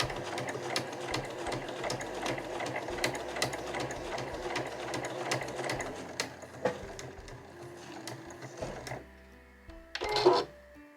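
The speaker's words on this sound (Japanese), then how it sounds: "そしたらまた押さえを下げて縫っていきます。" A sewing machine stitches a small curved zipper pouch of Marimekko fabric with a 12 cm zipper, a rapid close mechanical patter that runs steadily, stops, then ends with a brief clatter.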